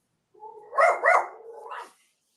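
Puppy giving a short run of high yelping barks, two sharper yips in the middle and a trailing whine, close and clear with silence around it.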